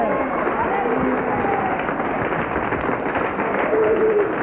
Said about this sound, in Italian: Un applauso alle belle ragazze